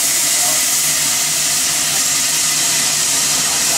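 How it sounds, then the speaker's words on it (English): A loud, continuous broadband hiss of escaping steam from Puffing Billy, Australia's oldest steam train, at Gembrook station fills the whole stretch, steady and close, with a faint low engine rumble beneath. "This is the oldest steam train in Australia."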